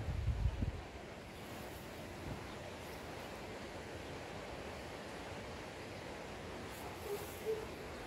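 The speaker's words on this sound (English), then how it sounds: "the noise you can hear in the background, that's the river." Steady broadband rush of a river flowing not far off runs through the whole stretch as a constant background wash outdoors, with no talking.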